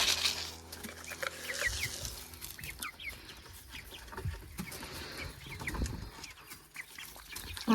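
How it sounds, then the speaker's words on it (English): Pasture-raised hens cluck and a rooster calls in an outdoor homestead yard, with busy overlapping chatter and scratching sounds at moderate distance amid steady background noise. "This one is one of the roosters that I have."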